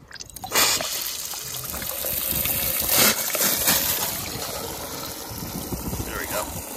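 Water trickling and splashing as it runs through a shed drainage pipe, a steady flowing gurgle with occasional louder gushes and a voice briefly speaking.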